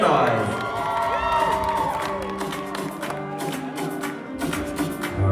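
A wedding reception crowd cheers and claps, a steady wash of noisy applause with shouts rising over it, fading slightly then swelling again near the end.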